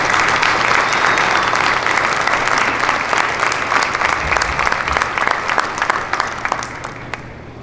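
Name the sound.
audience applause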